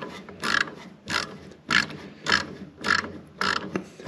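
A ratcheting screwdriver loosens a screw on a garage heater being converted from natural gas to propane, giving six evenly spaced bursts of clicking, close and fairly loud with no talk.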